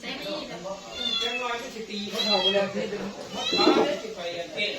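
A cat meows repeatedly, several drawn-out wavering cries close by, with a person talking over parts of it.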